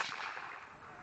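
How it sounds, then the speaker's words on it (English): A single musket discharges at a historical reenactment of the Battle of Chippawa, a sharp, loud crack that trails into a brief outdoor echo with no voices. "there was only one gun that had gone off"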